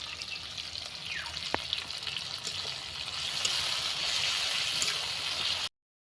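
Ginger-garlic paste frying in a pan for biryani gives a steady, close sizzle with watery bubbling, a few sharp clinks near the start, and the hiss growing slightly louder toward the end before it cuts off.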